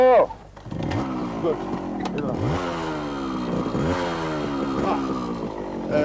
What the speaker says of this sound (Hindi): और तुम इसे मोटरसाइकिल पे लेके जा रहे हो